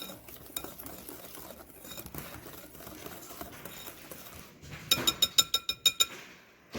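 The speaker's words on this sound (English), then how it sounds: "Just whisk it until it's completely combined." Rocky road brownie batter whisked in a bowl: a soft, steady swishing of stirring, then a quick run of about ten sharp metallic clinks as the whisk strikes the bowl, close up with no voices.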